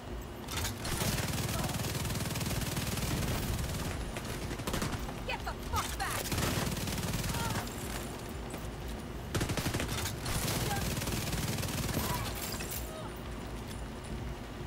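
Automatic weapon fire in The Division 2 arrives as long rattling bursts of rapid shots with short pauses between them. The gunfire is moderately loud, and a voice can be heard talking faintly beneath it.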